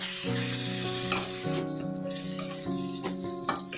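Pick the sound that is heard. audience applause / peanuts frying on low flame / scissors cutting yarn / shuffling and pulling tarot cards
peanuts frying on low flame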